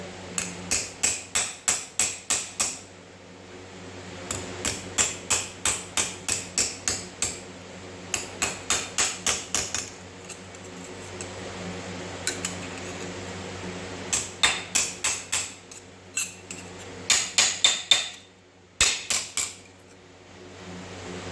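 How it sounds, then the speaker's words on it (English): Sharp metallic hammer strikes on metal shelving panels held in a vise, in quick bursts of several ringing blows with short pauses between groups; no talking. "Nothing high tech here, just using the vise and the hammer."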